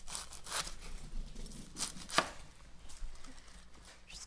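Knife chopping through crisp head lettuce just washed from the garden, a few soft crunchy cuts spaced out with one sharp louder chop in the middle, close and quiet with no talk.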